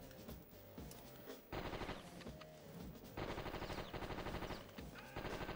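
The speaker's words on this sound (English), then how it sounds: "Enjoying shooting him." Rapid automatic gunfire in the Die Hard Trilogy shooter game, loud bursts of rattling shots repeating in several long volleys with brief gaps between them.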